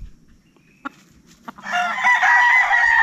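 A rooster crows loudly and close in a chicken breeding house, after a couple of short clucks from the hens, no voices.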